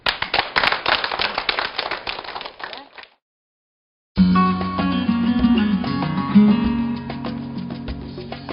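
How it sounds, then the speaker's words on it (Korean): An audience at a church lecture claps loudly in a dense burst of applause lasting about three seconds before it stops, followed by a short silence and then music. "힘찬 박수로 시작하겠습니다."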